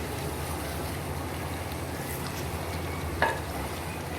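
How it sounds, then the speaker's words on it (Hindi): Karahi gosht meat being stir-fried in oil, a constant close sizzle and bubbling with soft stirring and one brief scrape of the spoon near the end. "अब इसे हम अच्छी तरह भूनेंगे इसी तरह"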